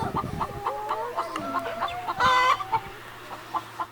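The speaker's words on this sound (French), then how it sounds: "Les poules sont des animaux essentiels dans la ferme." Farm hens in Thouarcé, France, cluck repeatedly at close range in short, uneven bursts, with one louder squawking call partway through and a low steady hum beneath.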